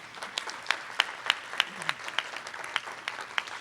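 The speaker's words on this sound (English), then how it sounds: "Let's give them one more round of applause" Light, scattered applause from a modest breakfast audience honoring award recipients at a Goodwill awards event, individual claps standing out as sparse sharp hits rather than a dense wash, fairly quiet and without talk.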